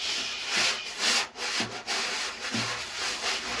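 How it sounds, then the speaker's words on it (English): Wire drum brushes sweep across a drumhead in long, smooth swishing strokes, a soft, breathy rubbing that swells and fades in a steady back-and-forth rhythm, close and alone. "you can still do the swishes"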